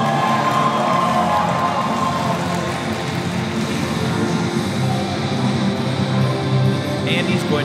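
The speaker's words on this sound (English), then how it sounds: "you can hear in their ovation of the first wrestler tonight that they are excited to have VPW back" A live wrestling crowd roars in a steady, loud ovation for the first wrestler of the night, a broad wash of cheering and shouting with scattered voices throughout.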